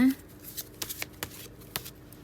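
A tarot deck is shuffled by hand in several quick, crisp riffles and taps, close and fairly quiet, with short gaps between bursts.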